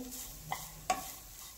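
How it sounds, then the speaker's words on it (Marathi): Grated fresh coconut being roasted and stirred in a pan over a medium-low gas flame, with a soft continuous sizzle and a couple of brief scraping clicks from the spoon, close and quiet. "आता हे व्यवस्थित आपल्याला खोबरं छान असं भाजून घ्यायचं आहे।"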